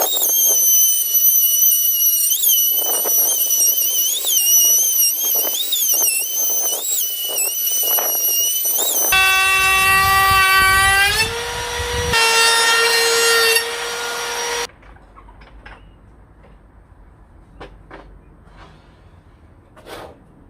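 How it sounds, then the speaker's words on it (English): An electric router cuts wooden trim during a bedroom renovation: a loud, steady whine with grinding and rubbing, shifting in pitch mid-cut, then the motor cuts off and the machine winds down quietly. "Gonna router some trim down."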